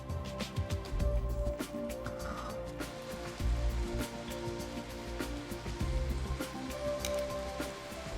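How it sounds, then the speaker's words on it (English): Steady, crackling sizzle of chicken frying in butter in a hot pan, with soft pops and spatters throughout. "When the butter starts to foam, add the chicken to the pan."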